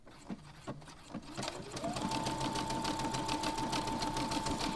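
A sewing machine sews a thick stitch, starting with a few clicks and winding up into a steady, fast, close mechanical whirring chatter with a rising motor hum.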